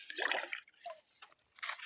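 Water pours from a plastic bottle onto tomato plantings in January, in short splashing bursts with brief pauses between them. The splashes are close and moderately loud, and no one speaks.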